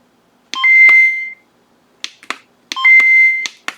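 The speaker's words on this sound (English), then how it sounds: "it was just kind of cool because this makes a sound for the light" A novelty night light gives off two short bursts of electronic chirping tones with a steady high beep, each burst opened by sharp clicks, all close and clear with silence between.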